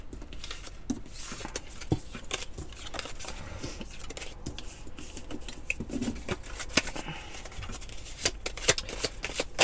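Tarot cards are gathered and put away, a run of soft papery slides, taps and shuffling clicks, close and quiet, scattered irregularly throughout.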